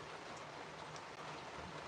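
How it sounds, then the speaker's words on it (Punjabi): Heavy monsoon rain falls in Punjab in a dense, steady hiss, a constant wash of drops with no pauses. "ਇਸ ਵਾਰ ਜਿਹੜੀ ਬਾਰਿਸ਼ ਆ ਬਹੁਤ ਜ਼ਿਆਦਾ ਹੋ ਰਹੀ ਆ"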